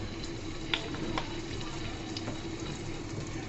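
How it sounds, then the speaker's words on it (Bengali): Mustard oil goes into a pan while cooking kochu pata bhorta (taro leaf mash), giving a steady, soft hiss and sizzle with a few small pops, fairly faint and even throughout. "আর বন্ধুরা এখানে আমি অ্যাড করে দিব এখন সরিষার তেল।"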